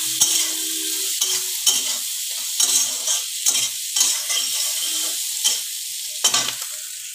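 Halved green chillies frying in a little oil over low gas while being stirred in a pan: soft steady sizzle broken by repeated scraping strokes of a spoon, close and alone without talk.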